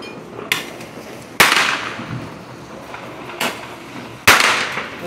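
Firecrackers and fireworks go off during New Year's celebrations in Memphis, with four sharp, loud pops spread irregularly over a few seconds against a constant background hiss.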